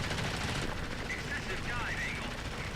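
Machine guns on a LaGG-3 fighter plane fire in World of Warplanes, a continuous rattling burst heard over steady engine drone, with faint whistling tones passing through.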